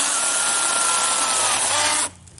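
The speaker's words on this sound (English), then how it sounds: "that's pruning your peach tree with a chainsaw" A chainsaw pruning a peach tree, running at a loud steady buzz while cutting, then cutting out abruptly near the end.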